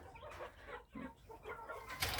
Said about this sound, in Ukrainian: Це, звісно, китайські шовкові або їх ще називають пухові курочки.